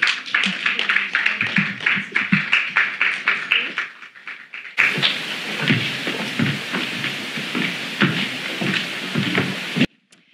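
An audience at a corporate sustainability panel claps a round of applause, first as a thinner burst of distinct claps, then swelling into fuller, denser clapping that stops abruptly near the end.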